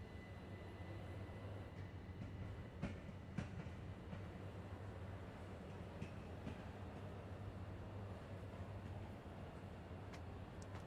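A train in the Train Sim World 2 video game, set on the London Commuter Brighton Mainline, rumbles steadily for the whole stretch, with low engine drone and scattered sharp clicks and clanks from the rails.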